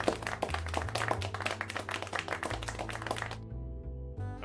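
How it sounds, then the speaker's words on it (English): Applause in the video game Life is Strange: a steady patter of clapping over low tonal background music, cutting off abruptly near the end. "Applause breaks out"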